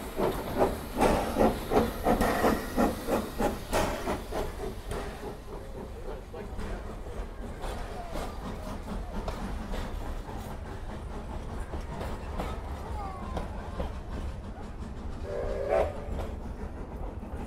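A steam locomotive chuffs rhythmically and loudly at first, then the beats blur into a continuous hissing rumble as it pulls away.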